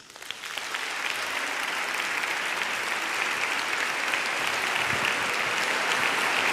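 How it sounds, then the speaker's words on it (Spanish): An auditorium audience at the opening of a cultural conference breaks into loud, sustained applause. It swells quickly from a few claps into a dense, even roar that continues without any speech. "Les pido por favor que recibamos con un fuerte aplauso a Nacho Ares."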